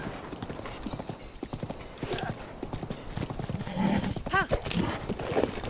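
Horse hooves clip-clop in steady rhythm as a grey pony trots through the Zelda: Breath of the Wild video game, with a brief whinny, while a voice talks over it.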